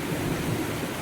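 Rain falls steadily with a low, rolling rumble of thunder during the first stormy wind-and-rain of the season in Konkan, a continuous dense wash of sound with no voices.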